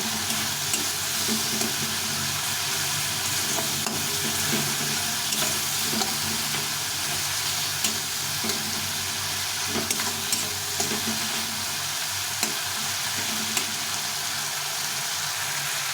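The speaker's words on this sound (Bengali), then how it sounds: "এই আদা বাটাকে দিয়ে দিই দিয়ে সব কিছু একটু ভালো করে কষিয়ে নিই" Ginger paste and spices being sautéed in a pan produce a continuous close sizzle and hiss, with frequent small clicks and scrapes from stirring throughout.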